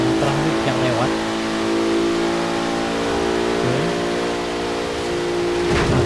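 A 2017 Bentley Continental Supersports in Forza Horizon 3 drones at high speed with a loud, sustained engine hum, its pitch dipping briefly at gear shifts, while someone talks over it.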